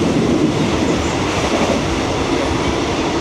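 An overnight train running toward Bangkok, Thailand, heard from inside a carriage as a loud, continuous rumble with rhythmic wheel clatter and occasional faint squeal.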